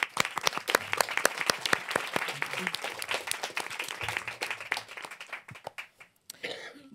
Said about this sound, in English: Can I already have a round of applause for all the pictures?